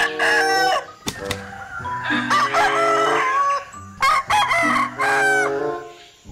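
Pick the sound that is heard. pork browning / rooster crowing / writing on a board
rooster crowing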